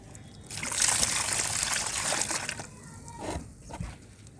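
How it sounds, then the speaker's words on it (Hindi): A little water poured into multani mitti (Fuller's earth clay), heard as a near, steady trickle and splash for a few seconds that tapers off into brief drips. "ये देखिए इतना सा पानी डालेंगे"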